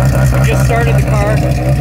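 Race car with a newly fitted engine idling just after start-up, a loud, steady mid-pitched rumble with a slight rhythmic lope, close by.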